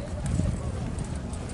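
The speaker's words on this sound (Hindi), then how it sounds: "कौन से घोड़े की है ये?" Hooves of a piebald Marwari filly from Nagaur clop on the ground at the Ganganagar animal fair, a close, uneven patter heard under people talking.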